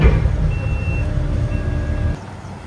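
A truck backing in on a farm yard sounds a steady series of high reversing beeps over a loud low diesel idle rumble, the engine dropping away near the end.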